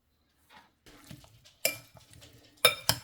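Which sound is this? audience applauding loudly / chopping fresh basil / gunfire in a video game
chopping fresh basil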